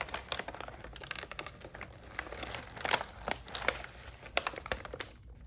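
Continuous crinkling and rustling of packing paper from a box of books, close and fairly quiet, with irregular crisp crackles throughout and no talking.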